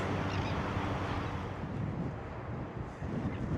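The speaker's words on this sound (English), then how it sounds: "it is kind of a windy day today" Strong gusts buffet the microphone on a windy morning walk outdoors, a loud, steady roar of wind noise with slight surges and dips throughout, no voices.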